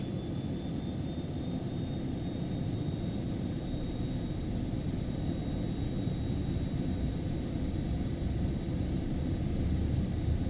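Embraer Phenom 300 jet engines at takeoff power during the takeoff roll in the X-Plane 12 simulator, a steady, loud broadband roar with a thin high whine running throughout, no talking.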